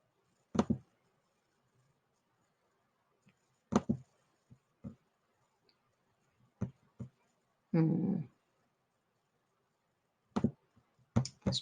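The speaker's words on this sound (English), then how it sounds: "Puppy dog barking sound from Sound Bible and the today's date." A puppy's barking sound effect: sharp, isolated yips spread across the span, a couple of quick pairs and one longer, rougher bark near the middle, each standing alone against near silence.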